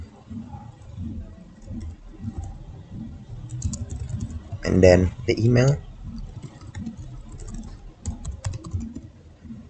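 Computer keys clatter as a hotel booking website registration form is filled in, with quiet scattered taps and a brief louder burst of rapid typing under a person talking.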